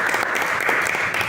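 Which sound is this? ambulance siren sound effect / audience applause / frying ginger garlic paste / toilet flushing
audience applause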